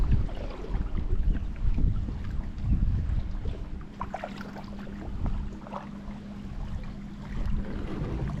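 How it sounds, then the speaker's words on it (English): Strong gusting wind buffets the microphone while kayak fishing on open water, a heavy low rumble that swells and fades continuously with no talk. "It was a really windy day out there"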